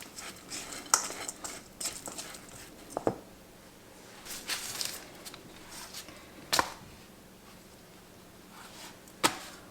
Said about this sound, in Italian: Un po' di pepe, un filo d'olio e mescoliamo